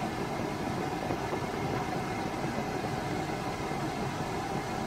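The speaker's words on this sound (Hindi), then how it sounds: "आवाज़ आती है, एक विस्लिंग साउंड आती है," Steady, dense engine noise from a Toyota Aqua (Prius C) with a continuous thin whistling whine layered over it, unchanging throughout, recorded close to the running motor.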